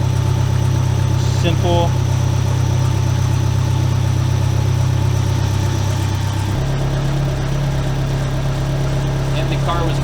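A warmed-up car engine idles close by with a steady low rumble and drone, shifting pitch slightly partway through, while a voice briefly speaks over it.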